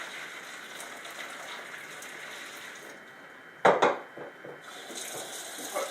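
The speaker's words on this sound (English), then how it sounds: "Put cold water in to stop the cooking." A kitchen tap runs cold water onto cooked lasagna noodles in a pot, a faint steady hiss broken by a brief sharp clatter of metal before the flow resumes.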